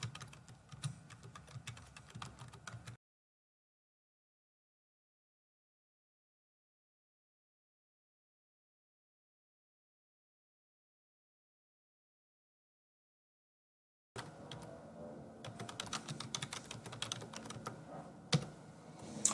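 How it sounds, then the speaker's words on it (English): Rapid keyboard typing clicks for a few seconds, then a long silence, before quick typing resumes and continues steadily. "I'm just going to finish up the typing now."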